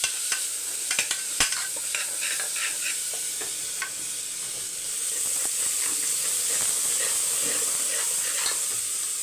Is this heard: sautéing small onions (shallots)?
yes